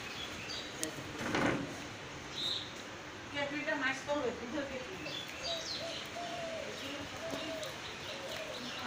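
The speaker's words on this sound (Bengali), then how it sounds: "পাখিগুলো কু কু কু" Birds coo repeatedly in the open beside a farm plot of leafy greens, soft rounded calls rising and falling over a steady outdoor hiss, with a few faint chirps mixed in.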